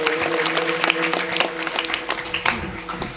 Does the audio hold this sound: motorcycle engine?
no